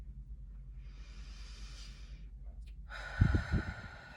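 Slow, deep breathing in and out during a calming tapping routine: a soft, airy inhale followed by a louder, rougher exhale, close by and quiet, with no talking.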